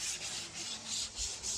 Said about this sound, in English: just sanding down the blade marks, getting ready to primer them